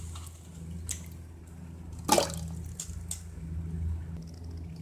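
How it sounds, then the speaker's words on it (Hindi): Cut lotus stalk pieces drop into water in a pressure cooker, making one close, wet splashy clatter midway, with a few softer knocks around it over a low kitchen hum. "हमने एक कुकर में पानी ले लिया है, उसमें हम डालेंगे ये कटे हुए बीही के पीसेस।"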